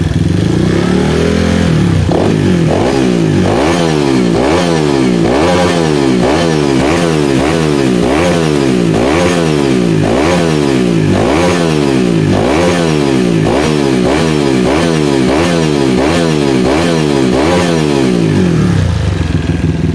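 Honda Vario scooter with a 59mm bore-up and a newly fitted exhaust, revved repeatedly in a fast, even rhythm of rising and falling blips, loud and close, with rattly engine clatter and no talking.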